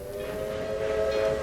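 A wood-hauling freight train in the Railway Empire strategy game rumbles steadily with a sustained whistle-like tone over it, continuous and moderately loud.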